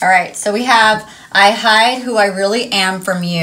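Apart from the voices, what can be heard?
No distinct noise like a dog, phone or traffic.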